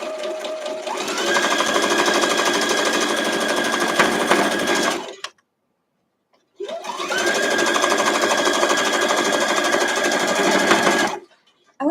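A sewing machine stitches a quilt block in two long, loud runs of rapid mechanical whirring, separated by a short pause and stopping abruptly each time.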